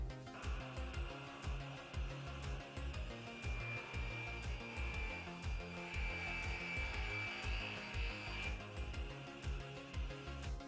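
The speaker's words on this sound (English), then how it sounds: "So let's get to the table saw." Table saw cutting wood, a loud continuous whirring drone with a rough, grinding texture that holds steady for about ten seconds, with no speech.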